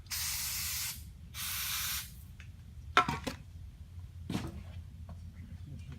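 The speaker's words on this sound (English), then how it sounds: "Hit it one more time with carb cleaner." Carburetor cleaner sprayed from an aerosol can onto a Kawasaki Mule 2510 carburetor during a rebuild: two loud, steady hissing bursts of about a second each, followed by faint clicks and handling noises.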